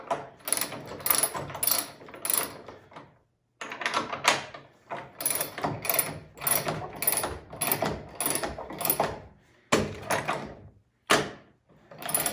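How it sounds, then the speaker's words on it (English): A hand puller ratchets in repeated bursts of sharp clicking as it draws a wooden post bottom together during a repair, close and fairly quiet, with short pauses between strokes. "So I'll put the puller back on, pull it together one last time."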